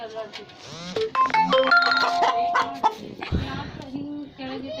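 Country hens clucking close by in a small backyard flock, a busy stream of rising and falling clucks and calls with a person talking over them.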